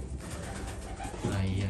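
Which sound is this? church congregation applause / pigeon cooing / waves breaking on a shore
pigeon cooing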